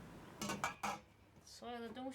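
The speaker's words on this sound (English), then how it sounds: "And chop it up. Chop, chop, chop." Luffa chopped with a knife on a wooden chopping board set half off a table: a quick run of sharp knocks, loud and close, followed by a voice speaking.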